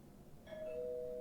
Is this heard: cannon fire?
no